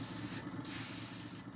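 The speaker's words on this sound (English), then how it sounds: "the scientists spray on various layers of colored liquid" Two bursts of spraying as layers of colored liquid are applied onto conductive solar concrete, each a loud hissing blast with a short pause between them.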